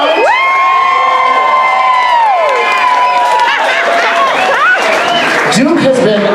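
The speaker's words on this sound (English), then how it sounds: "a big round of applause for Duke of Ring Lounge." Loud crowd at a drag show in a lounge cheering and whooping with sustained high shouts and screams over clapping, dense and close throughout.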